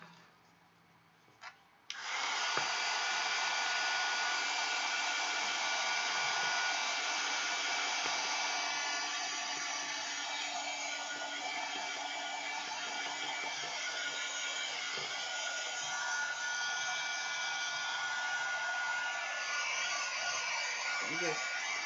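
A hair dryer blows steadily over a damp mixed media art journal page, a loud continuous whooshing hum lasting nearly the whole stretch after a brief switch-on, with faint rubbing underneath.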